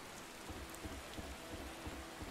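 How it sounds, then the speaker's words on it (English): Steady rain falls in the video game The Witcher, a dense, even hiss of drops with soft low rumbling beneath, heard alone and at moderate level throughout. "they're hiding from the rain"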